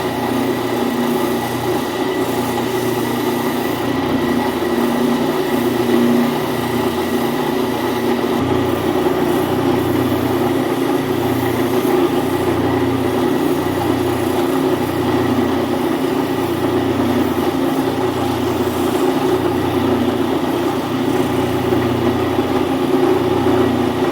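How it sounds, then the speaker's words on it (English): A Cab-King lapidary machine runs with a 140 grit belt polishing a Petoskey stone, a loud steady motor hum with a faint rhythmic grinding pulse, continuous and alone. "This machine has a 140 grit belt installed on it."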